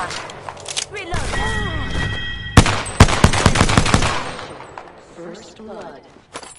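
Rapid bursts of automatic weapon fire in Apex Legends, with a dense cluster of sharp shots and booms mid-clip among game effects and a voice, trailing off afterward.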